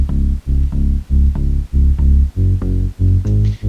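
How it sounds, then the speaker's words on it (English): A deep, buzzy Spire synthesizer bass plays alone in a steady pulsing pattern of short repeated notes, loud and close, with brief gaps between phrases. "Let's just listen to the synth by itself."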